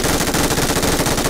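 Sustained automatic gunfire in a multiplayer shooter game, with a dense, loud, rapid stream of shots that does not let up.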